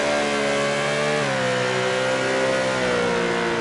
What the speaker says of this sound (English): Listen to the motors of the Stadium Trucks.